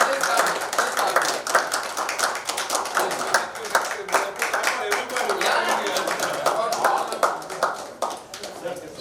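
Scattered hand clapping from a small group at a business meeting, uneven and fairly close, with people talking over and around it throughout.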